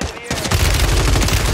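Rapid gunfire in a multiplayer shooter video game with snipers, a dense burst of shots lasting over a second, loud and close.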